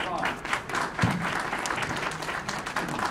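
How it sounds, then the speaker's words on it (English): An audience at a university town hall panel applauds steadily for a few seconds, a dense wash of clapping with some voices mixed in. "Let's give her a round of applause."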